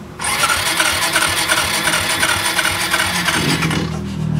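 A motorcycle engine with a newly fitted spark plug is cranked: a loud, close, steady churning for about four seconds, with no talk, before it dies down without catching.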